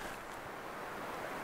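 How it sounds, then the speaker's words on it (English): A river flows through a canyon at Whitewater Creek in New Mexico's Gila country, a steady, faint, distant rush of water with no other sounds over it. "I can hear the river."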